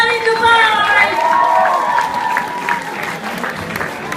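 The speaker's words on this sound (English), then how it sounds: "Everybody clapping in the house, everybody." Campus contest audience applauds and cheers for the finalists, a steady wash of clapping and crowd noise heard under a host's amplified voice.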